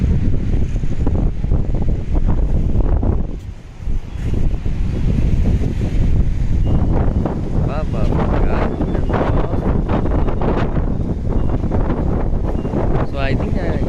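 Strong wind at Vizag beach buffets the microphone with heavy, continuous rumbling gusts, loud throughout, with a voice talking underneath the roar.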